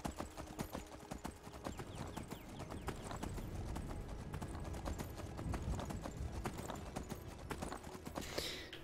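Steady clip-clop of horse hooves while riding in the PC game Skyrim, a continuous rhythmic trot of fairly faint, evenly spaced hoofbeats throughout.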